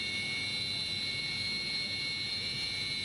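Jet engine of a Sukhoi fighter aircraft at an air base, a steady loud roar with a whining high-pitched tone running unbroken throughout, no voices present.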